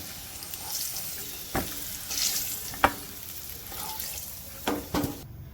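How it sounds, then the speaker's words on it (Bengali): Potato pieces frying in oil in a pan for a Bangla-style chicken curry give a steady soft sizzle, broken by a few sharp clicks and scrapes as they are stirred and lifted out. "আলুটা ভাজা হয়ে গেছে, আবার তুলে নেবো।"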